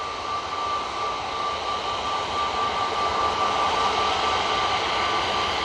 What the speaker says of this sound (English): Next out should be this KLM A321neo.